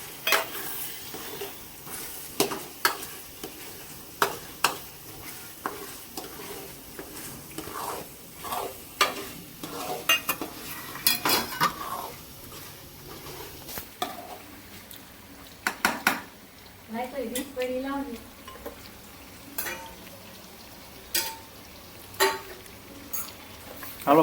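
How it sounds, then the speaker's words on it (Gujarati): Corn simmers in a pan for corn and paneer curry while a spoon stirs it, with soft sizzling under irregular scrapes and knocks against the metal, close and moderately quiet, occasionally pausing. "જો આ ફૂલ બફાઈ જાય ત્યાં સુધી આપણે એને આને હલાવશું."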